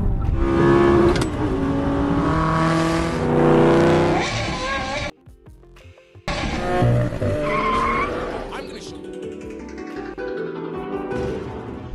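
BMW M5 being driven hard, a loud engine roar with screeching tyres through most of the stretch, broken by a brief near-silent gap midway before the engine and skidding resume.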